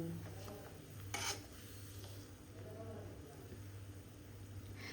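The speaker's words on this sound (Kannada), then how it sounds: "ಇನ್ನು ಸಂಡಿಗೆ ಫ್ರೈ ಆಗ್ತಾ ಉಂಟು." Sandige, sun-dried fritters, frying in a pan with a steady low sizzle and occasional stirring scrapes, one brief louder clatter near the start, in a home kitchen.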